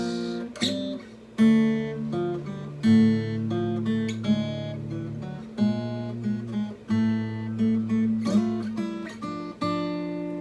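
Plucked guitar notes ring out in a flowing fingerstyle melody over low sustained bass strings, with steady picked rhythm and no voices.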